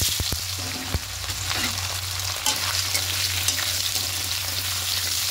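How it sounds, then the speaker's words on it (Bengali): Boiled, cut potatoes frying in oil in a wok, a steady close sizzle with occasional sharp crackles and stirring clinks, no voices. "হালকা একটু ভেজে নেব।"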